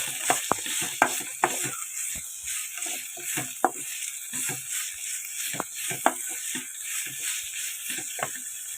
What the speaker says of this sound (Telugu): ఈ విధంగా వేగాయి కదా అన్నీ పచ్చిమిర్చి ఎండుమిర్చి జీలకర్ర అండి పుదీనా ఈ విధంగా వేగాయి కదా